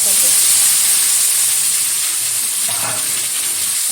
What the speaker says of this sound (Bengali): ভালোভাবে মশলাটা আমি কষিয়ে নেবো তেলের সাথে